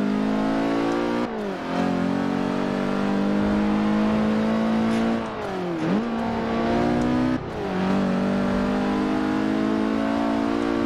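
Front-wheel-drive car in Forza Horizon 4 accelerating hard, a loud, close engine whine climbing in pitch through the gears, dipping briefly at each of two or three shifts before rising again.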